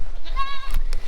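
A baby goat lets out one short, clear nasal bleat up close, a wavering cry followed by a couple of soft knocks.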